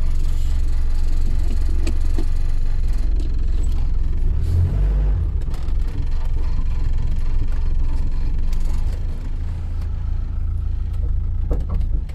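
A used automatic car that had stood for a long time idles with a steady, close, low rumble and a slight rattle, unbroken for the whole stretch with no one talking.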